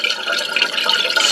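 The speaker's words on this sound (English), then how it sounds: "You can see the water filling." Toilet tank refilling through its fill valve during a flusher repair, giving a steady, close hiss of rushing water with a faint trickle, continuous and even throughout without pause.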